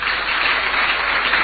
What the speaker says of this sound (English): Brother Joshua Ansah, who I believe deserves a round of applause